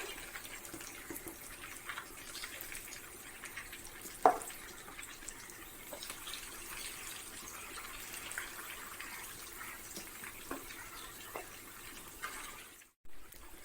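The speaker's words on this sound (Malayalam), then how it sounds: "ഇനി നമ്മുടെ ഓരോ ചിക്കൻ പീസുകളായിട്ട് ഇട്ട് കൊടുക്കാം" Pieces of chicken with curry leaves fry in hot oil for a Kerala street-stall style chicken fry, giving a faint, steady sizzling hiss scattered with small crackles and one sharp pop.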